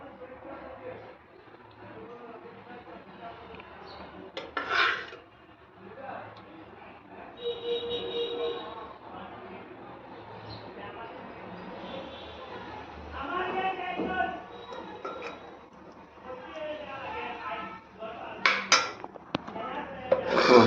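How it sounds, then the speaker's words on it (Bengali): Hot dalia is spooned from a pot onto a plate, with scattered metallic clinks and scrapes of utensils on dishware, some louder knocks near the end, and a quiet voice in the background. "এখন এই ডালিয়াটা গরম গরম একটা প্লেটে সার্ভ করে দিই।"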